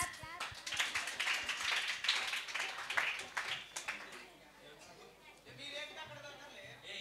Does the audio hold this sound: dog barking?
no